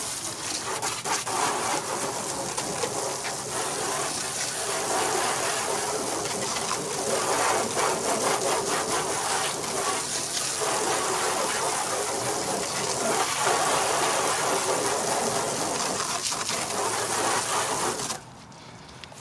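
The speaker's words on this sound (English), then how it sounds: "It's got, I'd say, medium pressure out of this garden hose." Garden hose spraying water at medium pressure, a steady broad hiss and splatter that runs unbroken at moderate loudness close by, then cuts off abruptly near the end.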